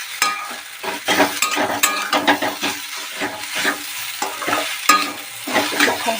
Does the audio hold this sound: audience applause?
no